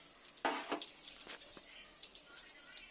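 Black cumin seeds and a dry red chilli sizzle in hot oil in a kadai, a crackling burst near the start followed by lighter intermittent spits and pops.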